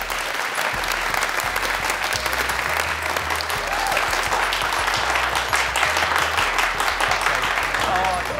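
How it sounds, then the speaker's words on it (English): Classroom of secondary school students breaking into loud, continuous applause, a dense close patter of clapping held throughout with a low hum underneath. "Big round of applause for those answers."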